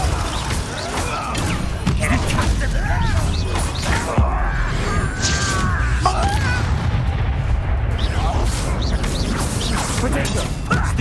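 Spell blasts from Confringo and Capulso in Hogwarts Legacy, loud fiery bursts and crashing impacts amid continuous battle noise and music, with a voice shouting spell names over them.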